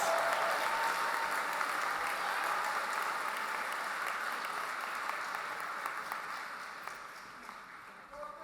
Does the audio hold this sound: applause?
yes